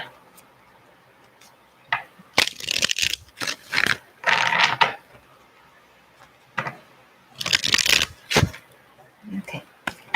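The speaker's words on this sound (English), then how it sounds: "I shuffle till the cards won't shuffle anymore." Tarot cards are shuffled by hand in several quick riffling bursts separated by short pauses, crisp and close, with soft clicks between bursts and no speech.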